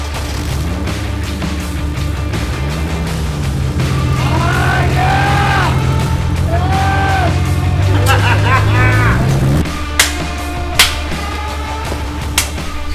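A project car that has sat for a year moves under its own power, its engine running with shifting tones while voices yell and call out excitedly over it, followed by a few sharp knocks near the end.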